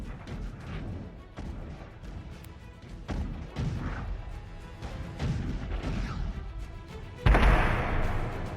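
Bombing of an IRGC base in Iran: repeated heavy explosive blasts and crashing impacts rumble one after another, with a sudden louder burst near the end, and no voices over them.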